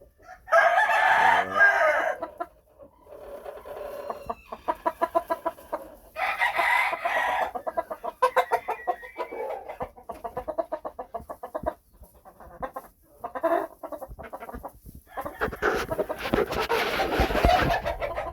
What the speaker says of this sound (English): This one is one of the black-breasted red cocks and a hen.